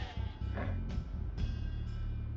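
Sheep bleating in Age of Empires II, several overlapping bleats over steady game ambience and music, with no talk.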